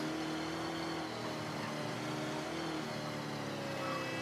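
In the Mafia III video game, a car engine drones steadily while driving, a constant low hum that is fairly faint and carries no speech.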